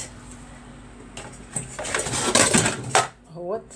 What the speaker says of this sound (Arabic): واغسلي المواعين معايا كده زي ما انا بغسل اهوت